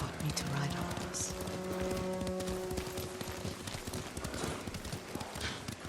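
Steady clip-clop of horse hooves at a brisk pace in the video game Ghost of Tsushima, with voices talking over it and a low musical drone underneath.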